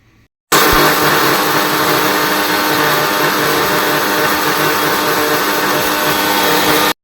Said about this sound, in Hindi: इसको अब हम ग्राइंड करेंगे, ग्राइंड करके और इसको मैं एक जार में डाल के इसको मैं रख दूँगी